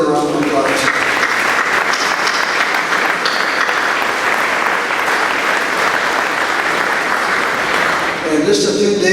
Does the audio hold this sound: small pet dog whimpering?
no